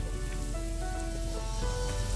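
Mushrooms hiss and crackle as they drop into a hot oiled pan for a creamy sausage pasta, a steady, close sizzle running evenly throughout with no talk.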